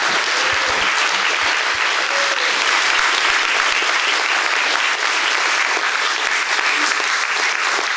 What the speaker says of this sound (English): I feel like there was applause coming.